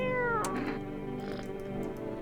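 A cat meows in the horror video game No, I'm Not A Human, with a couple of drawn-out, harmonic cries over a steady droning game soundtrack, fairly loud and close.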